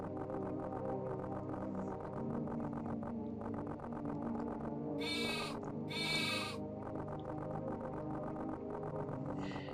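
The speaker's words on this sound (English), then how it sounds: "That's a sheep." Bleating sheep sound in a video game, with a looping tonal music bed under them. Two loud, wavering bleats land close together near the middle, and a fainter one follows near the end.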